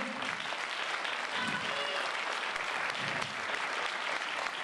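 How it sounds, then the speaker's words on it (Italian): An audience at a Christmas festival event in Vittorio Veneto applauds some young performers, a dense, steady wash of many hands clapping that holds evenly for several seconds with no voices above it. "Un grazie a questi ragazzi al quale vogliamo dare un applauso."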